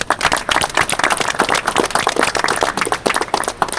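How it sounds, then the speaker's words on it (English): Audience applause at a live session on discrimination and neglect in water, sanitation and hygiene, a dense run of clapping that holds steady and loud for several seconds. "a big round of applause"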